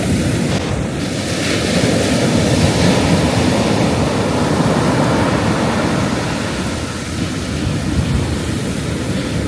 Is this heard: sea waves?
yes